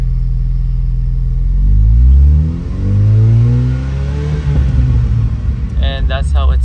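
Ford Bronco with an MBRP exhaust and K&N air filter, revved up from idle: loud rising engine swells twice, dropping back between, then settling to a rough rumble with some clatter near the end.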